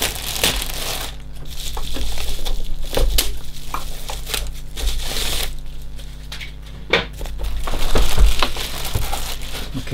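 Crinkly plastic packaging being unwrapped rustles and crackles steadily for several seconds, close up, with occasional sharper crunches and tearing bursts.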